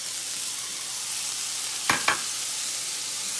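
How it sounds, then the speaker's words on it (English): Minced garlic, four cloves, hits a pan of golden brown mushrooms and sizzles in a steady, close hiss, with two quick scraping knocks of a stir midway. "now our mushrooms are nice and golden brown, and we're going to go ahead and add our 4 cloves of minced garlic"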